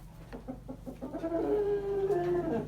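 Chickens cluck in short bursts, then a drawn-out squawking call rises, close by on a farm.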